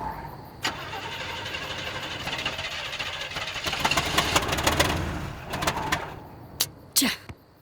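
A car engine runs with a rough mid-pitched drone that swells, then cuts out as it stalls from an engine problem, followed by a few sharp clicks and knocks.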